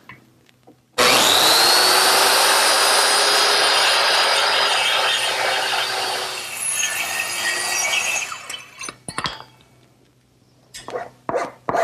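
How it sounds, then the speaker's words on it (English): A circular saw makes cheek cuts in redwood for an arbor: a loud, sustained cutting whine runs for several seconds, then winds down and gives way to a few sharp knocks and handling sounds. "I'm going to return to my circular saw."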